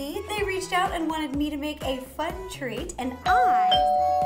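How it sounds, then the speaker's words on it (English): A doorbell chimes near the end after a person speaking, a clear sustained ding tone that rings out loudly and lingers. "that is the doorbell"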